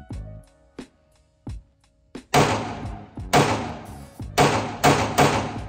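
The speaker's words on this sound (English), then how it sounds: "I'll roll some footage of me shooting it on the indoor range because that audio is fine." A Walther PDP F-Series pistol fired on an indoor range: a few dull thuds, then five loud, sharp reports at roughly one-second intervals, each with a booming room echo.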